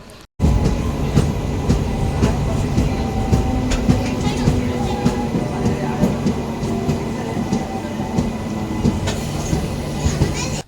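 A MEMU train on the Kachiguda–Raichur line pulls away from Timmapur station after a short halt, a steady close rumble with rhythmic clatter of wheels and rattling coach noise that continues throughout.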